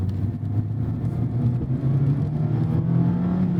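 A 2024 Mazda ND3 Miata RF in track mode, heard from inside the cabin, gives a steady low engine drone that climbs gently in pitch as it accelerates, with road rumble beneath.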